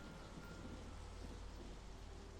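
Steady rain falls in a dark setting, a soft continuous hiss with a low rumble underneath, faint and without voices.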